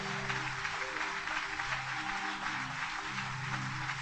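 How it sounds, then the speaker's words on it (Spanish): Church congregation clapping during a Spanish-language morning service, a continuous moderate-level wash of hands with a faint sustained musical tone underneath. "Aplauda al Señor en esta mañana."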